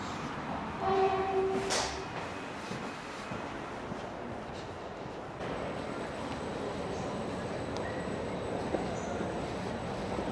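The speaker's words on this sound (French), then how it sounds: "C'est pas le même train que tout à l'heure" A Léman Express L7 train at a station between Geneva and Annemasse: a low rumble of the train with brief tonal chimes or signals early on, then a steady hum and a faint high whine.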